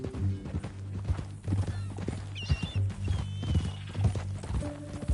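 Horse hooves in Red Dead Redemption 2 clop in a steady trotting rhythm, close and clear, with a brief whinny partway through and some game ambience behind.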